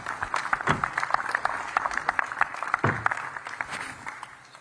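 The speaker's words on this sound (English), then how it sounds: "Have a round of applause for our 250 contenders." An audience at the 2024 Pro Motocross preseason press conference in Pala, California applauds the 250-class riders, a short burst of scattered, uneven clapping heard in a moderately sized room.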